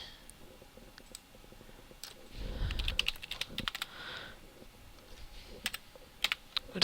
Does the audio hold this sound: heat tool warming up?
no